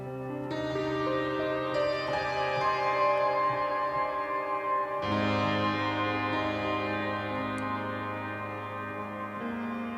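Sustained piano chords ring out with a long, lush reverberant tail, a new chord entering midway and blooming into the lingering wash.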